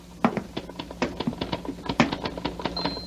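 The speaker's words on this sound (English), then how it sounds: "I hear him. His typewriter." A typewriter clatters in quick, uneven bursts of close key strikes, a bright tapping rhythm heard alone with no talk over it.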